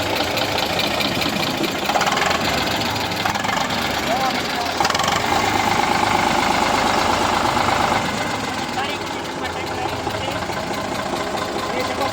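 An Eicher 485 tractor engine idles with a steady, loud diesel chugging throughout, with some voices talking over it.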